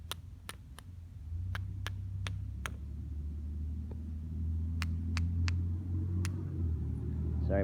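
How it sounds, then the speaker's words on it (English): Road traffic rumbles steadily in the distance as a low, continuous drone that swells slightly as vehicles pass, with a scattering of sharp, isolated clicks nearby. "Sorry about the traffic noise."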